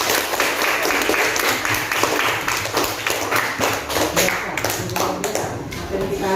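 Students in a classroom break into applause, a dense run of claps and taps lasting several seconds, loud and continuous, with some voices mixed in.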